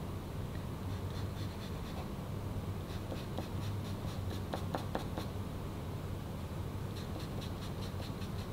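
Pastel or pencil strokes scratching across paper, steady soft rubbing with bursts of quick, short marks, close and quiet against a low hum, with no talking.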